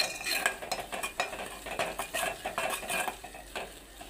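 Coconut powder masala for tomato sherva curry is stirred in a pan over a low flame, a spoon scraping and clinking steadily against the metal with a soft frying hiss beneath.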